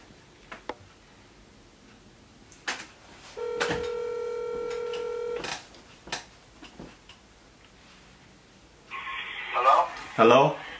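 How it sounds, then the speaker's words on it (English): A phone call to Dunkin' Donuts: a few keypad taps, a steady dial tone, then a quick run of touch-tone digits, with a voice speaking briefly nearby. "Alright, so I'm calling Dunkin' Donuts."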